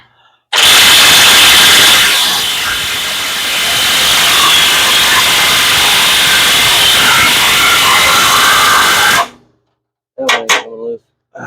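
A loud power tool, likely an impact gun, works the nuts off a car's control arm during a home front-suspension rebuild, running continuously at full volume for about nine seconds before cutting off, followed by brief clanks.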